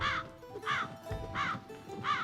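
Four harsh, evenly spaced caws from a crow in the evening sky ring out one after another, each a short raspy call with quiet gaps between.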